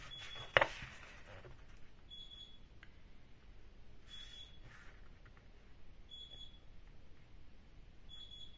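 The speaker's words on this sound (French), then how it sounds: "je sais pas si on entend le bip bip. C'est mon four." A home oven signals that a rising brioche is ready to bake with short, faint electronic beeps that repeat at wide intervals, far off in a quiet room after a single brief knock.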